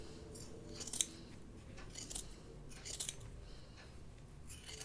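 Scissors snip through a fabric seam allowance during garment sewing, giving a run of crisp, close cuts with sharp bursts near the start and several quieter snips after, alone with no voices.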